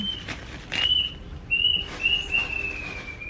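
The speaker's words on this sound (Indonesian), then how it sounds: "Suara burung sedih." A bird gives a thin, high whistled call in a few drawn-out, slightly wavering notes, moderately close against a quiet background.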